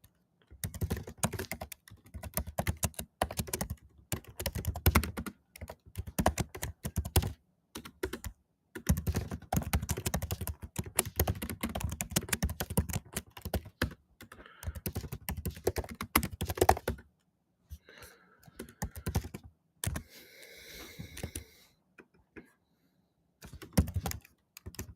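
Someone types on a computer keyboard for about twenty-five seconds in rapid bursts of close, clicking keystrokes, broken by short pauses, with no talking.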